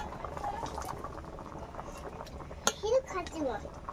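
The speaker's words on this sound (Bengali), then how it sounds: "একটা থালা নিয়েছি থালাতেই আমি নামিয়ে নেব" Puffed boiled bread rolls are lifted out of hot water onto a metal plate, with clinks and scrapes of utensil against metal and a faint watery bubbling underneath.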